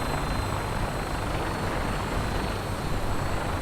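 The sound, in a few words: engine noise in Fallout 4 video game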